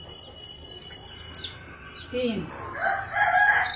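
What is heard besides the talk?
newly hatched chicks and hen of desi poultry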